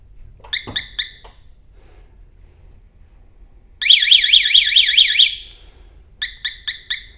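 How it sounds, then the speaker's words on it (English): A Big Dog motorcycle's alarm sounds on a stand: short bursts of rapid electronic chirps, then a steady warbling siren tone for about a second and a half, then another string of quick beeps, loud and near with no one speaking. "the alarm will sound just as quick"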